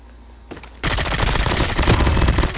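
Sustained automatic gunfire in a shooter video game erupts after a brief quiet lead-in, a dense, loud rattle of rapid shots continuing to the end.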